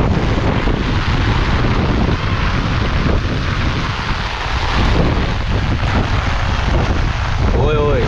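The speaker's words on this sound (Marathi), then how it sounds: "तर लावणी करता करता असा हा जोरदार पाऊस आलाय" Heavy rain pours down across a paddy field during transplanting, a dense, loud, unbroken hiss with wind buffeting the microphone throughout.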